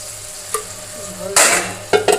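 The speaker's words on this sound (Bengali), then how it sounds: "সবজিটা ভালো করে এভাবে কষিয়ে নেব।" Vegetable curry sizzles and fries in a pan while a utensil scrapes and stirs it, with loud bursts of stirring breaking over a steady close sizzle.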